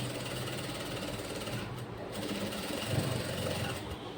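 A sewing machine runs steadily while stitching a blouse side zipper, a continuous close mechanical whir that holds at an even level from start to finish with no break.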